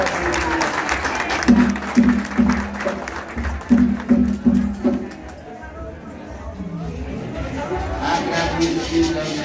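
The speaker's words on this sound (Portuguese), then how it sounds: "Aqui eu quero pedir uma salva de palmas." Audience clapping at a birthday celebration at a Pedro de Oxum terreiro in Codó, rhythmic hand claps in bursts mixed with crowd murmur, fading before more talk and chatter at the end.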